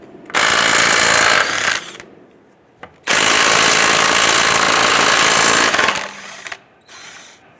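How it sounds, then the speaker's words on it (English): Lug nuts are loosened and removed from a 2005-2010 Chrysler 300 rear wheel with a 21mm socket on a power impact tool, heard as two loud, close rattling bursts of several seconds with short quieter gaps between. "Using our 21mm socket, we want to go ahead and loosen and remove our lug nuts"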